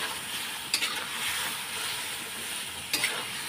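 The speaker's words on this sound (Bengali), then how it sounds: "তাই মশলাটা এখন কষিয়ে নেব ঝটঝট করে।" Ground spices sizzle and fry steadily in a hot pan as they are stir-fried into a thick curry masala, a constant close hiss with two brief spatula scrapes.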